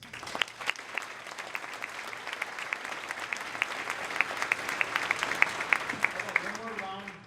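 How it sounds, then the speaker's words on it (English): Audience at a 2019 awards ceremony applauding steadily, dense hand claps filling the room at a constant level, with a voice speaking over the end as the clapping fades. "One more round of applause for all the new staff."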